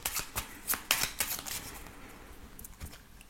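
A 32-card deck is shuffled up close: a quick run of crisp, papery riffles and snaps that fades into softer rustling, with no talk.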